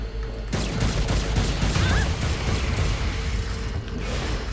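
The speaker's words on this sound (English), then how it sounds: "Who's shooting at me?" Dense gunfire rattles through a firefight in the video game Saints Row: Gat out of Hell, sustained bursts with a creaking, mechanical edge carrying on loud and steady without pause.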